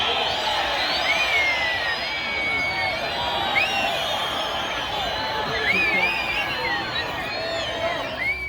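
Home crowd at a soccer match in Cusco, Peru: a steady, distant roar of many voices with repeated sharp whistles rising above it throughout.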